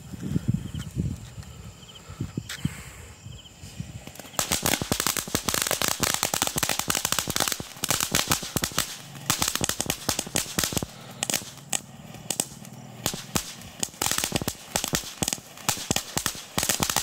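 A Super Jumbo Silver firework from Maribel Santa Ana Fireworks bursts into a long, dense barrage of sharp crackling pops and bangs, loud and close, following a few quieter opening pops.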